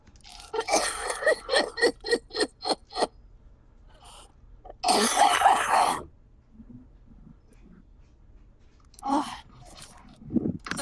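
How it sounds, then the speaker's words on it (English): A fit of repeated harsh coughs in a rapid series, then a longer rough coughing burst, followed by a few more coughs after a pause. "sometimes when I cough a lot, I lose oxygen and have a seizure."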